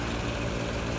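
A nebulizer breathing machine runs its pump off a Topek 750W car power inverter, giving a steady, close, low mechanical hum and vibration with no pauses.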